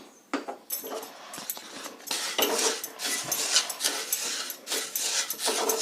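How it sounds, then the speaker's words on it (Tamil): Sesame seeds roasting in a heated kadai over a gas flame, with a faint, continuous crackle and rustle broken by light stirring scrapes and clinks against the pan. "நம்ம எள்ளை இதில் போட்டு வறுத்து எடுத்துக்கலாம்."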